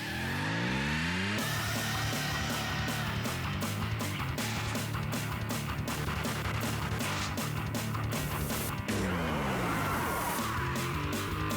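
A drift car at a Formula Drift event roars continuously at close range, its engine revving hard and fluctuating through shifts across the whole run.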